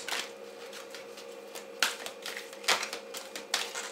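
Oracle cards being shuffled by hand, a series of soft papery riffles and flicks in irregular bursts, close and quiet with no talking.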